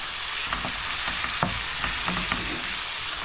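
Chicken stirred into a frying masala of onion, ginger, garlic, cinnamon, cardamom, bay leaf and chili flakes: a steady close sizzle broken by scattered scrapes and clicks of stirring.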